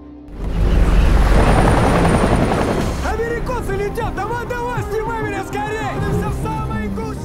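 A loud helicopter roars nearby with a heavy, steady rotor rumble, and a voice starts talking over it partway through.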